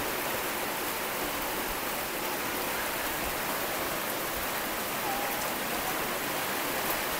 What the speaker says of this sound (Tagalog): Oh, lakas ng ulan po, grabe.